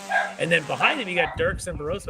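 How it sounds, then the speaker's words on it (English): Dogs bark and yip repeatedly in the background of a live road-racing broadcast at Watkins Glen, the barks mixed in under a commentator's steady talk. "Sorry for the dogs barking in the background."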